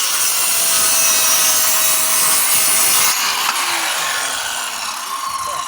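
Steady rasping strokes of a saw cutting through wood, loud and close, continuing without pause before the pitch shifts slightly as the cut nears its end.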